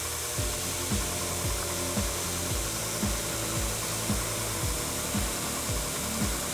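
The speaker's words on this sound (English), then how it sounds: "We're going to grind it using a 36 grit belt and go all the way up to 320 grit," A belt grinder with a coarse 36 grit belt works a metal bar smelted from bullet shell casings, producing a steady, loud abrasive roar with recurring low, rhythmic pulses throughout.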